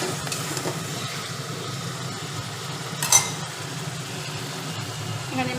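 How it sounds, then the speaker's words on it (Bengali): A Bengali fish curry's fried spice paste sizzles and hisses steadily in the pan after water is poured in, with a brief sharp clink of a utensil midway, close and continuous. "এখানে মাছের ঝোলের মশলা কষানো হয়ে গেছে, একটু জলও ঢেলে দিলাম"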